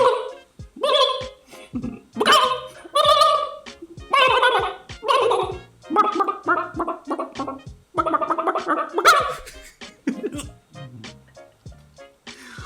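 A person mimics a chicken, producing a rapid run of gargling, gobbling clucks and squawks for a Unity video game, close and loud in uneven back-to-back bursts.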